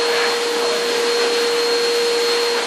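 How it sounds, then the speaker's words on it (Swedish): A vacuum cleaner runs loud and close with a constant roaring whoosh and a steady whine, unbroken throughout. "De dammsuger mig fast tvärtom."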